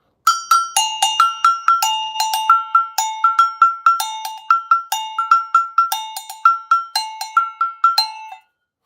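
A small cowbell-type percussion instrument, meant to go with timbales or bongos, is struck with a drumstick in a quick repeating pattern of bright metallic clanks. Two pitches alternate in rhythmic grooves, close and loud with no talking.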